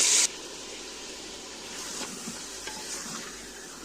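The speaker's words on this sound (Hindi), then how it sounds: "मटन को हमें जो है थोड़ा सा फ्राई करना है" Mutton fries and is stirred in a pot for a Kashmiri-style soup, with a sharp opening clatter, then a steady close sizzle broken by occasional scraping stirs.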